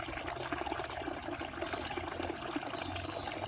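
Water flowing and rushing steadily at the head of the Ravensbourne River, a continuous broadband wash with no voices.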